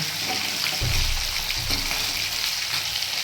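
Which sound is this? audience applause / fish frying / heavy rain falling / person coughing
fish frying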